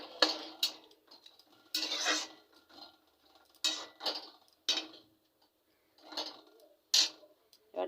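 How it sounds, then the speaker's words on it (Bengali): A lid goes onto a pot of simmering kofta curry. Short metallic clinks and clatters come in scattered bursts, fairly quiet and close, with brief quiet gaps between them. "ঢাকা দিয়ে দিচ্ছি ঢাকাটা দিয়ে দিলাম"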